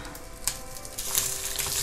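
Sausages sizzle and crackle in a hot frying pan, a steady hiss that grows a little louder partway through.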